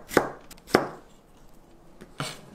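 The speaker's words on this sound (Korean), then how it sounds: "파프리카도 썰어 주세요." Paprika (bell pepper) cut with a knife on a board for a cucumber salad, three sharp distinct chops spaced apart, close and clear.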